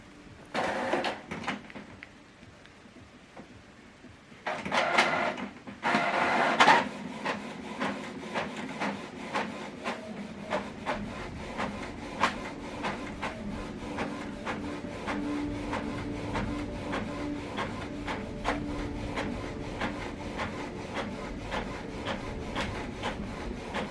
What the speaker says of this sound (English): This document now we scan is printing.